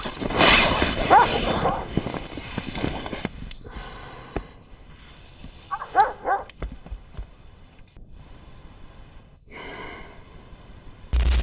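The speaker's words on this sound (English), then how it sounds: "After a few minutes, the barking stops, and Kushum does not return." A dog barks and whimpers in scattered bursts, with breathy sounds between them, then the clip goes mostly quiet.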